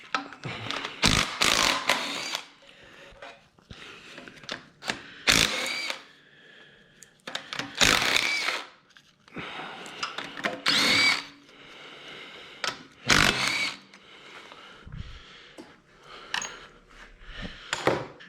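A power tool spins off 12 mm bolts from the head of an F22B2 engine in repeated short, loud bursts of whirring, each a second or so long, separated by brief pauses with clinks of metal.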